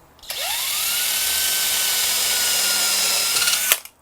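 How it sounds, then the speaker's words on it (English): A power drill whines up to speed, runs steadily for a few seconds while boring into a wooden electric guitar body, then stops abruptly, close and loud. "let's drill a couple of holes"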